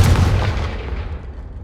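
The Confringo spell in Hogwarts Legacy goes off as a single loud, close blast, a heavy boom that rolls away and fades over a second or so.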